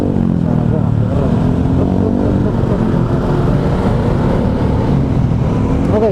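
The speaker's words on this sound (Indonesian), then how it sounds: "Aduh, motor berisik lagi." A noisy motorcycle goes by close to the microphone, its loud, rough engine drone steady and filling the whole stretch, with no clear break or fade.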